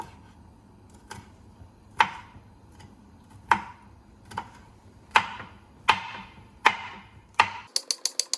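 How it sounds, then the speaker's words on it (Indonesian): Knife chopping chili peppers on a cutting board for bakso aci, several sharp, evenly spaced chops at close range with no talk, then a quick burst of five faster, lighter cuts at the end. "Kita potong cabai-cabainya."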